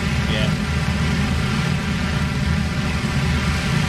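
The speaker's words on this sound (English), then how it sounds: "Now with this surround sound, I hear engines all around me." Several bomber engines drone all around in a WWII video game, a dense, continuous low rumble with a steady throb that never lets up over the few seconds.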